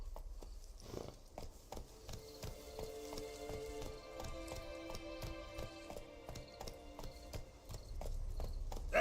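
Roach, Geralt's horse in The Witcher 3, clip-clops along with clear, rhythmic hoofbeats, close and fairly loud, over a soft musical background.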